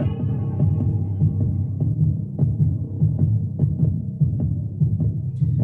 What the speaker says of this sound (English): Well, it starts with a heartbeat.